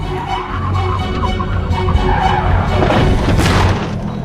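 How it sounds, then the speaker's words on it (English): A Lamborghini skids on a wet road with a loud, sustained rushing tire-and-engine roar, ending in a sharp crash as it slams into a fence at full speed. "the car slid out of control. He crashed into a fence at full speed."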